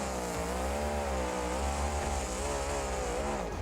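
The Grave Digger monster truck engine roars and revs in a sustained, buzzing drone, rising and falling in pitch as it powers out, loud and close.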